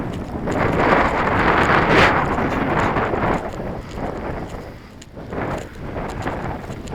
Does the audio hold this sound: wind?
yes